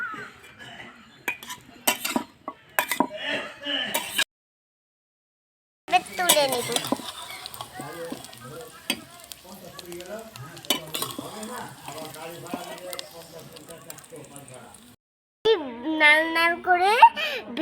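Vegetables, including cauliflower, fry in a pan for vegetable khichuri, crackling and sizzling in bursts with utensil clinks against the pan, under intermittent talking and a short silent break.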